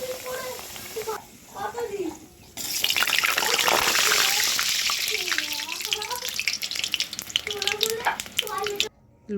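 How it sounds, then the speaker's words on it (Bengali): Luchi fry in hot oil with a loud, continuous bubbling sizzle that rushes in partway through and keeps going almost to the end, while a person talks over it before and during the frying. "এই যে আমরা লুচি ভাজা শুরু করে দিলাম।"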